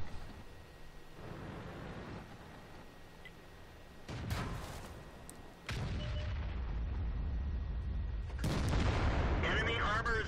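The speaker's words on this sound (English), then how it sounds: "Move to avoid the artillery." Artillery fire in the World of Tanks game, with tank destroyers in play: deep booming blasts and crackling shots come in several bursts over a steady rumble, the loudest close by near the end, under a few spoken game announcements.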